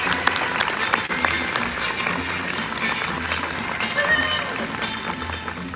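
Audience applause fills a D23 panel hall celebrating the Haunted Mansion's 50 years, a steady, dense wash of clapping from a large crowd that holds at even loudness throughout.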